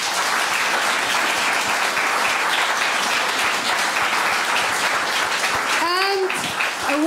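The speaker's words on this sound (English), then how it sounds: "Please give them a warm applause." Audience applause for literary interpreters at a talk on Turkish writers in exile, a dense, steady wash of many hands clapping throughout, with a brief voice rising near the end.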